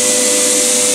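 A wood router mounted under a router table runs at full speed, a loud steady whine with a strong sustained tone and broadband hiss, heard alone for a brief moment.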